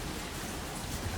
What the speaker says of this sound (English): It's raining after a few days of nice sun.